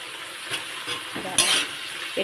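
Bottle gourd pieces drop into a hot pan of frying shrimp, a bright sizzle flaring with each addition over a steady crackle, with a short scrape of stirring; no voices.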